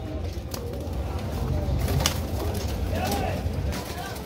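Pigeons coo in soft repeated bursts at a Baghdad bird market, with a few brief sharper calls over steady crowd murmur and distant voices in the background.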